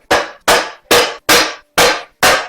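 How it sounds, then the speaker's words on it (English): Hammer striking a welded metal jack mount, six sharp heavy blows at an even, deliberate pace, each ringing briefly, close and loud with silence between hits. "let's hit it with a hammer"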